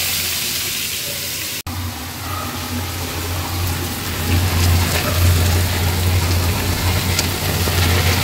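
Onion paste sizzling in plenty of hot oil in a home kitchen, a steady loud crackling hiss that swells after a sharp click and carries on without talk.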